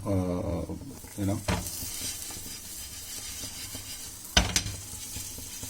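Bread toasting in butter on a pan over a medium flame gives a soft, steady sizzle, with a couple of sharp utensil clanks partway through and no voices.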